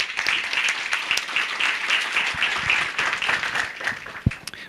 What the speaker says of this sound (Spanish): Bueno, un aplauso para Milan y Orlando.